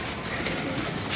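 Pigeons cooing close by in a short burst, soft low throaty calls over a steady background hiss.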